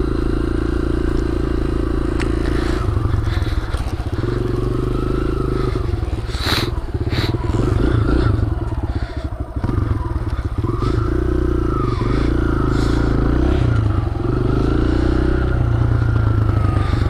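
A stunt motorcycle riding in second gear, its engine droning loud and steady at close range, with some clattering and scraping noises mixed in.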